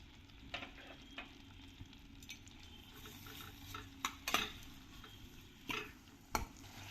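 Finely chopped onion goes into a hot pan of melted butter, giving a steady low sizzle with scattered stirring scrapes and a few sharp clinks of a spoon against the pan.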